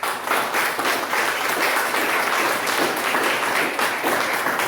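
Church congregation at a worship service applauding, a dense, loud, continuous wash of many hands clapping that holds steady throughout.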